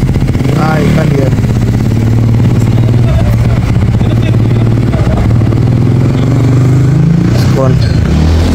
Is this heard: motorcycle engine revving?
yes